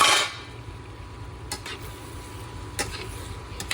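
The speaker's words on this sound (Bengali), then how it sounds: "এবার ভালো করে নেড়ে চেড়ে ঢাকনা চাপা দিয়ে রাখবো" Bottle gourd stirred in a cooking pan with a utensil, a few sparse scraping scrapes over a quiet, steady low hum, close and soft.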